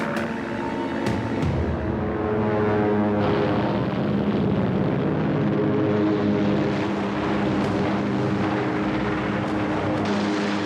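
WWII fighter planes of the USS Yorktown at Midway roar with loud, steady propeller-engine drone as they take off and climb away, the engine tone sustained and dense throughout.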